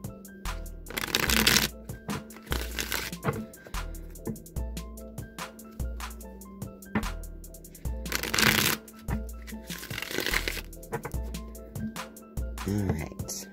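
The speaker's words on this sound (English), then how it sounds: "So now I'm going to shuffle the Rider-Waite." A Rider-Waite tarot deck is shuffled by hand in repeated bursts of riffling and flicking card slaps, close and clear, with brief pauses between passes and no talking.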